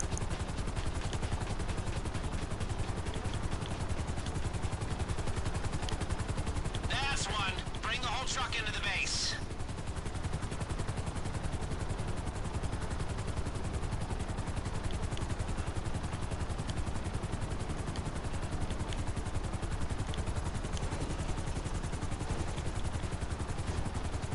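A helicopter flies in a video game, a dense continuous rotor roar that stays loud for the whole stretch, broken midway by a short clattering burst.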